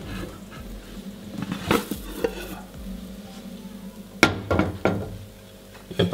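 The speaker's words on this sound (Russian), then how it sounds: "Сверху ставлю тарелку. Переворачиваю." A plate is set on a frying pan and the pan is flipped over in a home kitchen. Several sharp clinks and knocks stand out over a low background hiss.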